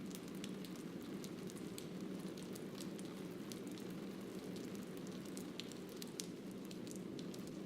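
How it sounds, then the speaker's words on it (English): Steady rain pours down in a virtual Iceland landscape in the VR game The Lab, a dense, even hiss with faint pattering over rocks, constant and close throughout with no talk. "The rain coming down."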